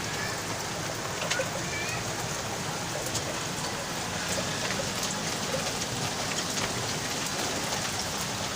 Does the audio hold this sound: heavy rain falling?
yes